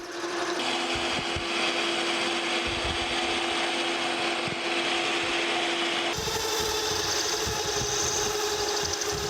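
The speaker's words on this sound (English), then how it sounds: "let's go to our larger 7/8 inch drill bit now" A 7/8 inch drill bit bores into a metal gear blank turning on a metal lathe, a steady grinding, whirring cut with a constant machine hum that shifts pitch partway through, close and without talk.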